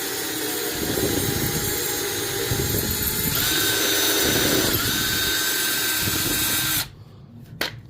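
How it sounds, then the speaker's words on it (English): A power drill whirs continuously and close up, its pitch shifting under load as it drives screws into timber, then cuts off near the end. "I'll drill and put a few screws in."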